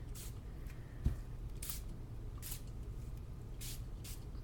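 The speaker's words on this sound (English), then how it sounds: "So I started spraying." Four short hissing bursts of sprayed liquid watercolor paint, evenly spaced over a soft background hum.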